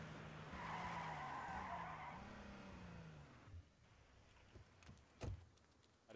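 A car in the H1Z1 game skids and slows with tire noise and a falling engine tone as it pulls up and parks outside a house in the suburbs, followed by a few faint clicks and a soft thump; quiet overall.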